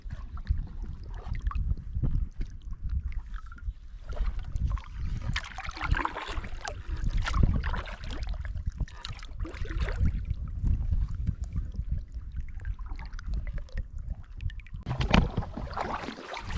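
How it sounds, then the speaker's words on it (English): Canoe paddling across a pond in the Adirondack St Regis Canoe Area, with soft steady splashes and water swishing near the boat under a continuous low wind rumble. "Now we just gotta paddle over to find a campsite."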